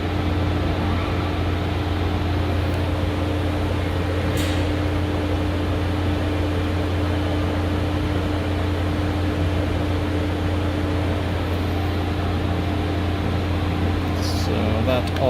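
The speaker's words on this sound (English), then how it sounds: "turn my pump on" A waterjet cutting machine's high-pressure pump runs with a loud, steady mechanical drone and a constant low hum, unchanging for the whole stretch.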